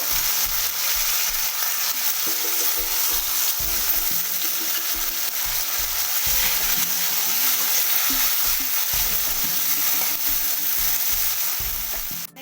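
Two dried red chillies and chopped tomato fry in hot oil for a vegetarian pumpkin and gobindobhog rice dish. Loud, continuous close sizzling runs under rhythmic stirring and scraping, with no voices.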